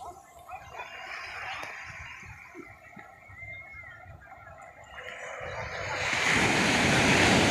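Ocean waves wash onto a cold winter shore in a steady broadband roar, with wind buffeting the microphone, swelling to a loud close surge near the end while someone speaks quietly.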